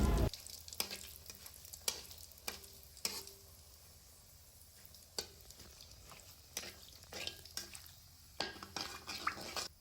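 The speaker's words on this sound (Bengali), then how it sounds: "নেড়েচেড়ে এখন এগুলো ভালোভাবে ভেজে নিচ্ছি।" Cumin, black cumin and dried chillies fry in oil in a wok, a soft low crackle beneath repeated sharp clicks and scrapes of a spatula against the metal, stirred at a close, quiet distance.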